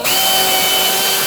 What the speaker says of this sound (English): Now we're going to go through the rest of the rivets by drilling through the pre-drilled holes in the bottom of the side panel